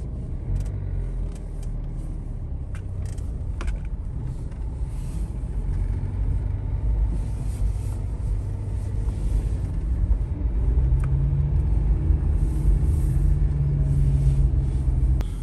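A Dacia Duster drives with four-wheel drive engaged, giving a steady, heavy cabin rumble with road noise that builds slightly toward the end, plus scattered small knocks and rattles.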